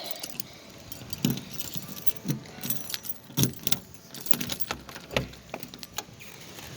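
Keys jangling close up in the dark, a series of irregular metallic clinks and rattles in short bursts over quiet background.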